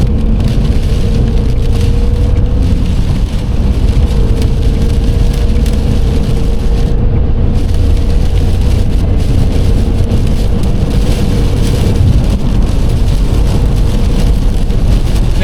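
Steady rain and tyre spray from lorries hiss over a continuous road rumble from a moving vehicle, loud and unbroken throughout.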